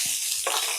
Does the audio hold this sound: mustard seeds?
yes